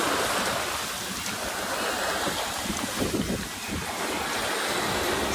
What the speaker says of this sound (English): we have big waves.